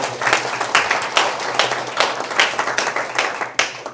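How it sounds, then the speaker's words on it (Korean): A crowd applauds, with dense overlapping claps of steady loudness that carry on throughout. "박수 한번 보내주시죠."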